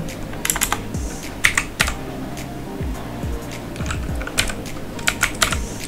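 Someone types on a computer keyboard in bursts of quick, crisp key clicks, some louder taps standing out, close by in a quiet room.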